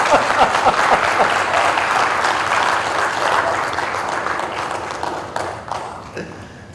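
A large theatre audience breaks into sustained applause after a stage play, loud and dense at first, then gradually thinning and fading out.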